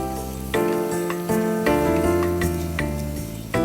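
Dried puti fish and onion hitting a hot pan, with a steady sizzle and a few sharp clinks of a utensil against the pan at irregular intervals.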